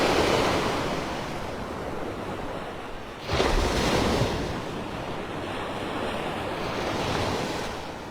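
Steady ocean surf washes ashore at Clam Pass Beach Park in North Naples, Florida, a continuous roar of breaking waves with a louder swell midway and light wind buffeting the microphone, no voices.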